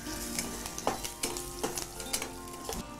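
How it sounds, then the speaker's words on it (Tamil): Mustard seeds, chana and urad dal, asafoetida, green chilli, ginger and curry leaves tempering in hot oil for aval puttu, a steady close sizzle with sharp popping crackles and stirring scrapes throughout. "எண்ணெய் காஞ்ச உடனே கடுகு, கடலைப்பருப்பு, உளுத்தம்பருப்பு, பெருங்காயத்தூள்"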